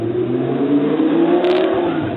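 A car engine roars loudly on a city street, a steady, sustained rumble measured near 98 decibels, continuous and close throughout.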